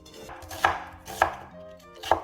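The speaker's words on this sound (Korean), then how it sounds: "양파 반개 곱게 채 썰어 넣고요." Half an onion being finely julienned with a knife on a cutting board for a rice-batter spinach pancake, giving three sharp, evenly spaced chops close up with quiet pauses between them.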